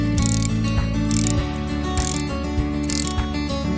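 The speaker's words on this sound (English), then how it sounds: "you're going to undo these 4 bolts right here" A ratchet on long socket extensions with a pivot head works loose 10 mm bolts on a 2021 Hyundai Veloster N blow-off valve, giving steady, close, loud clicking throughout.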